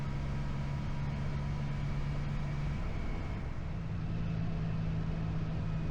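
A lightweight motorcycle sweeping through mountain corners on a Japanese road, its engine humming steadily close by with a continuous drone of wind and road noise that shifts in pitch as the bike changes speed.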